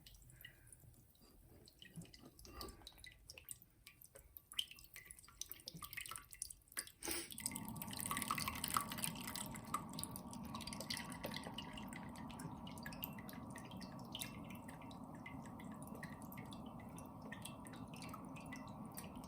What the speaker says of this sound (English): now I'm just gonna continue pouring the liquid over